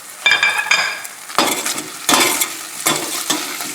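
Sausage is stirred in a hot frying pan and lifted out, with steady sizzling and fat crackle broken by repeated scraping and clinking bursts of a utensil against the pan.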